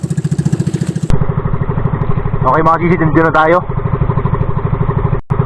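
A motor engine idles with a steady, chugging pulse throughout, close and loud, while someone speaks briefly over it.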